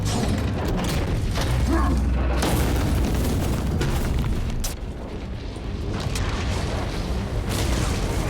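A frag grenade blast in Space Marine 2, deep booming thuds layered over dense, loud battle noise with mechanical clatter, a sharp burst near the middle and continuous rumbling combat around it.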